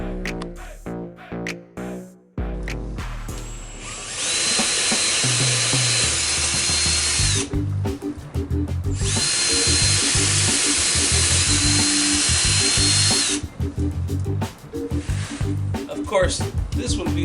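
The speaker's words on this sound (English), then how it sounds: "I'm gonna use a jigsaw to cut this open" A jigsaw cuts open a board for a subwoofer mount in a Lexus LS400, whining loudly and steadily at close range with a brief pause midway, after someone speaks.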